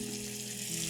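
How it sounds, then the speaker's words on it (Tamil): Fish pieces frying in hot oil with curry leaves, a steady close sizzle holding constant through the whole second with no talk. "மீன் ஃப்ரை தொடங்கியாச்சு."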